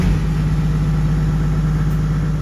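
Toyota Land Cruiser 105 diesel engine, fitted with a Unichip controller, driving with a loud, steady low drone and constant hum, close and alone, no voices.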